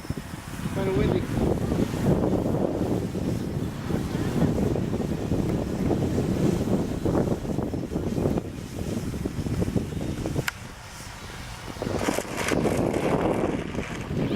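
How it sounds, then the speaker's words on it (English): Strong wind gusts buffet the microphone at an airfield during a model plane flight, a loud rumbling roar that rises and falls throughout with a brief lull near the end. "Kind of windy."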